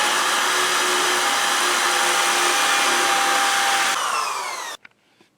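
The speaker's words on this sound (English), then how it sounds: "take our small electric drill there with a 1/2-inch bit" A small electric drill with a 1/2-inch bit boring through wood whines steadily at high speed, the pitch shifting near the end before it cuts off abruptly, leaving brief quiet rattles.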